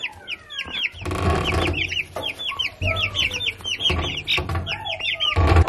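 Many small chicks peep and cheep rapidly in an overlapping chorus, close by, with soft clucking and rustling underneath.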